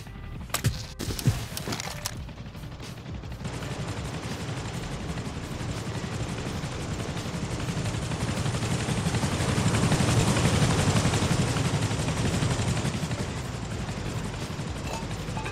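A helicopter flying in the Rust console video game, a loud continuous rotor and engine roar that swells slightly and holds steady, preceded by a few sharp mechanical clicks at the start, with no talk.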